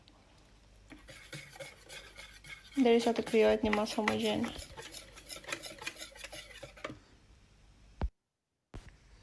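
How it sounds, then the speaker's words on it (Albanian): A spoon stirs crepe batter as flour is added bit by bit, scraping and rubbing rhythmically against the bowl at close range, loudest for a couple of seconds mid-clip, while someone talks over it. "duke hedhur mielin duke trazuar"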